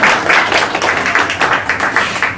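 A church congregation applauding together during a Sunday service, a dense, steady wash of many hands clapping at close range, filling the whole moment without pause or voices.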